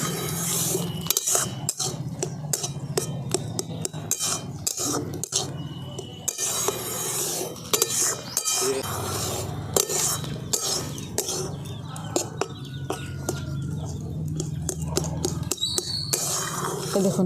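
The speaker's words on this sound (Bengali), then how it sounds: "এবার ক্রমাগত এটাকে আমি নাড়তে থাকবো" A spoon stirs thick boiled semolina in a pot over and over, giving dense, irregular scraping and knocking clicks of utensil on metal that run steadily through the whole stretch, close and fairly loud, with no talking.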